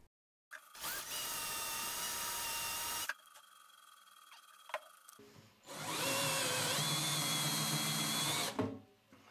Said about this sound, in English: Then use a cone drill or step drill to widen the holes to a diameter of 12 mm.